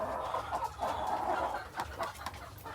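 Breeder chickens cluck and murmur close by on a free-range poultry farm, with soft overlapping calls and a few sharper clucks over a quiet background.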